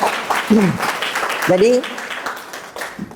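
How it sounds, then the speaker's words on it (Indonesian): Brief applause from a class or lecture audience for a fellow participant, dense patter mixed with voices talking over it, fading after a few seconds. "tepuk tangan untuk temannya"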